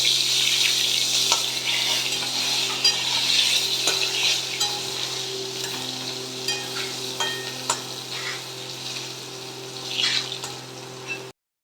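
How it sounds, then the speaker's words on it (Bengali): Brinjal pieces frying in oil with nigella seeds, a steady close hiss with occasional soft clinks of stirring, no voices, running throughout. "বেগুনগুলো ভেজে নেব"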